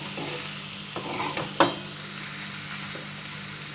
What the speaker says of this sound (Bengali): এবার ভালো করে নেড়ে মিশিয়ে দেব